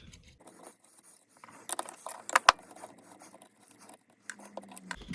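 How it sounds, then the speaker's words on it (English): A socket wrench undoes nuts on an alternator being torn down for scrap, with faint metallic clicks, scrapes and rattles, one sharp close clack in the middle. "11/32 socket. So just undo the nuts."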